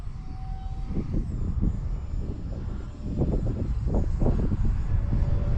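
An E-flite Habu SS 50mm electric ducted-fan RC jet flies at about half throttle, a whooshing, rushing roar that swells and fades as it passes through the air, steady and moderately loud.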